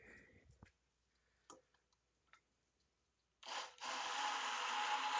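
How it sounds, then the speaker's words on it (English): An immersion blender whirs loud and steady for about two seconds, beating eggs with a little milk in a home kitchen, after a few soft clicks and taps of preparation. "we're going to blend up these eggs"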